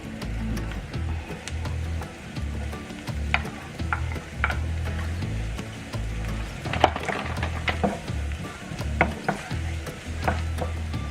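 Garlic sizzles steadily in a hot pan after onion as a base for mung bean stew, with frequent clinks and scrapes of a utensil stirring against the pan.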